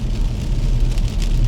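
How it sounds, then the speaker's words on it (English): Rain patters on a car in Sydney while driving, a steady low rumble of the moving vehicle with a soft wash of drops over it. "I thought it might be nice to have a bit of a drive in the rain"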